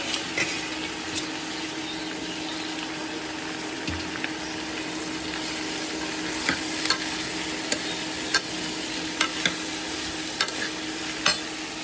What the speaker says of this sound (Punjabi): ਆਪਣੀ ਸਬਜ਼ੀ ਭੁੱਜੀ ਜਾਂਦੀ ਹੈ